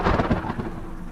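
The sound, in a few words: rain and thunderstorm sound effect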